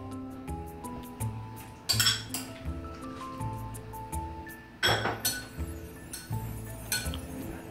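Tomatoes go into a bowl of Greek salad, with a run of light clinks and taps of a utensil against the bowl over steady background music.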